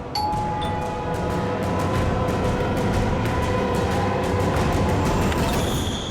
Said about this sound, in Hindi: घंटी सुनाई नहीं देती क्या?